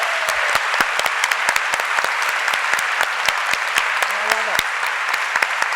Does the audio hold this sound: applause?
yes